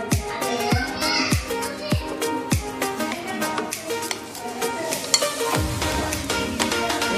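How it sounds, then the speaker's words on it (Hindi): Vinegar and soy sauce being stirred into a stuffing mixture for bitter gourds, with close, steady spoon-on-bowl scraping and clinks in a busy rhythm throughout, no talking. "इसको मिक्स कर देंगे।"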